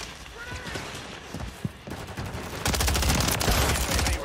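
Gunfire in Call of Duty MW3 with an MTZ 556 rifle: scattered shots at first, then a loud, sustained rapid-fire burst in the second half, over a busy game background.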